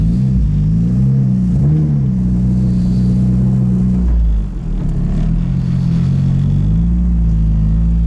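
A Nissan Cefiro fitted with a K24 engine drives with a loud, steady engine drone and road rumble from inside the car, the pitch rising and falling slightly as it changes speed.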